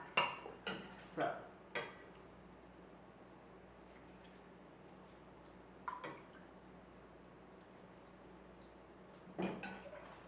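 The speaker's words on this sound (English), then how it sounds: "And we'll give that a stir." Breadcrumb stuffing being stirred in a bowl, with a few close clinks of a utensil against the dish in short bursts separated by quiet gaps.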